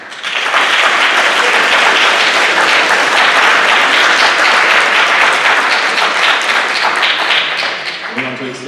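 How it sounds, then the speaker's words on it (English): A crowd at a 2021 high school academic awards ceremony breaks into loud, sustained applause that swells quickly, holds strong, then tapers near the end as a voice begins to speak. "give yourself a round of applause for committing to academic excellence this year"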